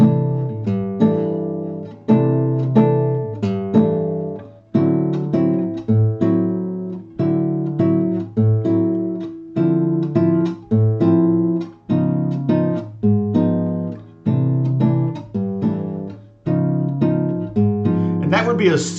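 An acoustic guitar strums and plucks a simplified, unsyncopated bossa nova pattern, steady chord hits in even bars repeating throughout at a moderate volume.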